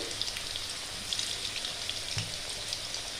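Potatoes with salt and turmeric frying in oil make a faint, soft crackle and patter like light rain, steady and close throughout.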